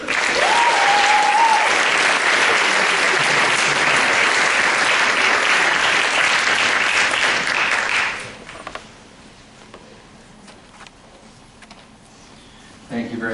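An audience applauds to welcome panelists at an evening discussion in a student center, a dense, loud wash of clapping lasting about eight seconds before dying away to quiet room tone with a few scattered claps.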